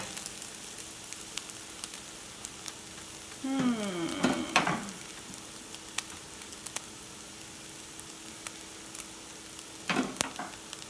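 A corned beef and egg scramble sizzles steadily in a pan, a soft constant frying hiss with a brief louder burst of scraping and crackle midway and another near the end, no voices.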